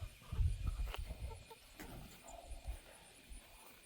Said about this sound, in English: The bantams all have their bellies full.